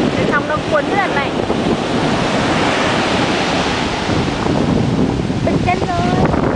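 Ocean surf at North Shore Beach roars steadily as waves break and wash in, heavy wind buffeting the microphone, with brief voices chattering over it.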